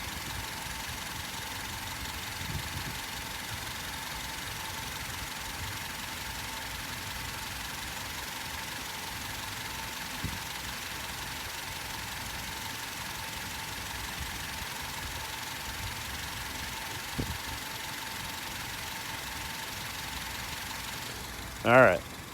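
Quiet, steady idle of a 2006 Honda Civic LX engine in excellent condition, a low, even hum held for a long stretch with a faint click near the end.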